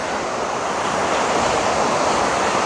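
A waterfall near Kolukkumalai in Munnar, visited on a rainy bike trip, gives a steady, close, broadband roar of rushing water with no voices.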